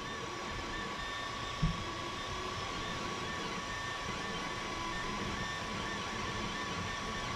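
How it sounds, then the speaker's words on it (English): A brand-new Creality Ender 3 V2 3D printer powers up with a steady, even whirring hum and a thin constant tone, broken by one brief thump near the start. "Brand new printer firing up."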